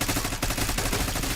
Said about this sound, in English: Oh, I heard some fireworks.